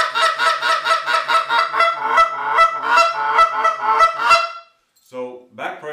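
A hand-held goose call blown with one hand, giving a rapid series of loud, close honks in quick rhythm for about four seconds, then a short pause and a few more honking notes.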